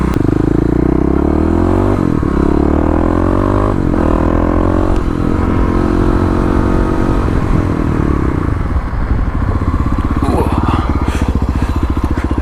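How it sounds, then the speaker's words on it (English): A motorcycle engine runs loudly up close and then winds down as the rider brakes hard in an emergency stop. A rough scraping rasp follows as the rear tire slides near the end. "Got a lot of rear tire sliding action there."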